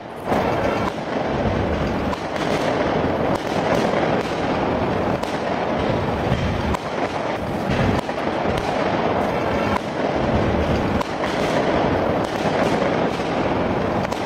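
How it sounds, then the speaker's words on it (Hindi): Fireworks and firecrackers bursting during a street celebration in India, a dense continuous crackle and rumble of many overlapping explosions, loud and steady throughout with no speech. "आतिशबाजी हो रही थी, लोग पटाखे फोड़ रहे थे"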